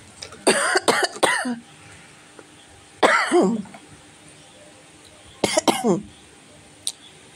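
Three bouts of harsh, close coughing separated by quiet pauses, each a cluster of rapid hacking coughs, with a faint click near the end.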